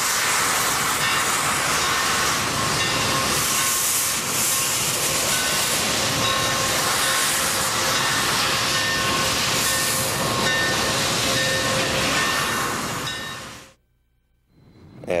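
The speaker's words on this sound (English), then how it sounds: "This locomotive is out 5 days a week, 10 months of the year, operating just the way it was originally intended to be operated" Steam locomotive in regular excursion service in Texas running close by, a loud, continuous roar of hissing steam and rumbling that holds steady before cutting off abruptly near the end.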